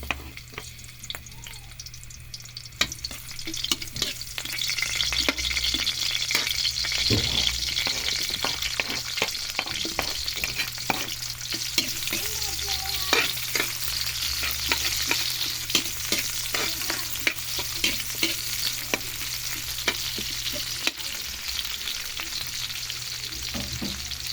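Garlic sautéing in a pan for pancit Ilocano gives a steady, close sizzle with scattered clicks and scrapes of stirring throughout. No one speaks.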